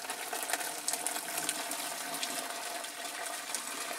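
Hot water pours steadily from a kettle into pots soaking in caustic soda, a close, continuous splashing gush with no talking.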